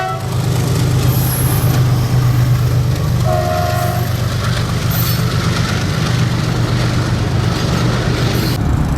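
Road traffic waits at a closed railway crossing as a train rumbles past, a loud, continuous heavy roll with brief horn blasts and hissing brake sounds.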